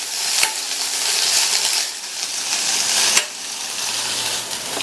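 Onion and green chillies sauté in a pan with a loud, continuous sizzle, punctuated by a couple of sharp utensil clicks against the pan, with no voices.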